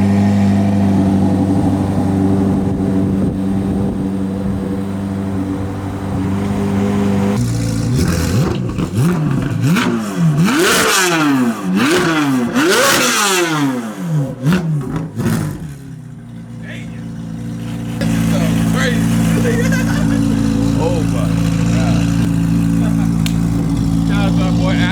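A Corvette C8 Z06 fitted with a Yonristic exhaust idles loudly, then revs hard in rising and falling sweeps before settling back to a deep, steady idle, all close and loud with no one talking.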